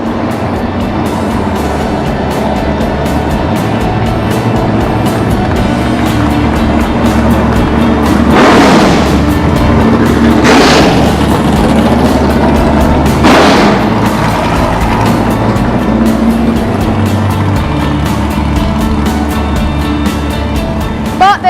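Loud 1970s McLaren Can-Am race car engine roaring steadily throughout, with three sharp surging passes or revs standing out in the middle, no talk over it.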